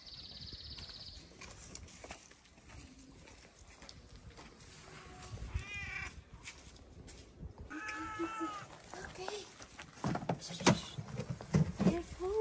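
Friendly stray cats meow repeatedly for food outdoors, several loud, drawn-out cries close by, mixed with clattering footsteps and occasional bits of a person talking.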